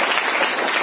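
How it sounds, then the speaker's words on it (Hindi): Audience applause at a diamond conference in Pune, a dense, loud wash of clapping heard alone for a brief moment. "मैं जोरदार ताली सगरा सर के लिए देना"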